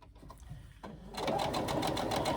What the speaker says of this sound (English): Sewing in the one spot, locking in the thread. Now I continue on. I'm sewing at 3/8 of an inch.